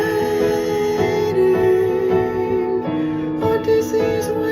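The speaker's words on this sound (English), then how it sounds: "you have Odysseus' mom's melodic motif." Gentle piano plays a major-key melodic motif for Odysseus' mother, sustained notes and soft chords ringing steadily and close without any voices.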